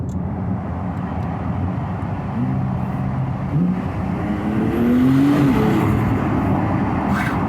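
A new Porsche 911 Turbo S engine accelerating close by on the Autobahn, heard through a lowered window, the rising whine climbing through the gears over steady road rumble, with no talking.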